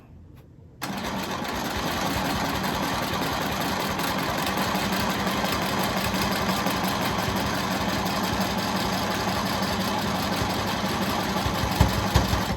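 A sewing machine runs steadily while straight-line quilting along a marked line with a ruler. It starts abruptly after a brief quiet moment and then hums continuously and fairly loud, with no talking.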